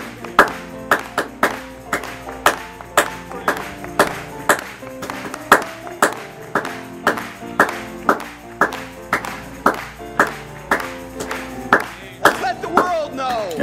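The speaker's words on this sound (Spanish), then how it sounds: "Vamos a aplaudir una vez más a él." A church congregation claps in steady rhythm along with a worship song, with sharp regular handclaps over sung music that continue throughout and grow busier near the end.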